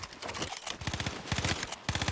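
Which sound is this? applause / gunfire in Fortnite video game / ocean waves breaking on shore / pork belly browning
gunfire in Fortnite video game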